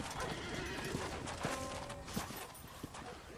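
In the Western video game Red Dead Redemption, a horse's hooves clip-clop on the ground and the animal whinnies briefly, with background voices and ambient game sound around it.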